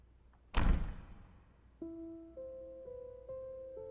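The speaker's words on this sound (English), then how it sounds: "there came the sound of a door slamming" A heavy door slams once in a stone castle corridor, a sharp loud bang that fades into reverberation, followed by sustained eerie musical tones.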